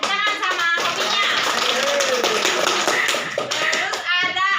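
A classroom of Indonesian junior high students claps together in a quick burst of applause, close and loud, with a teacher's voice and children's chatter mixed in.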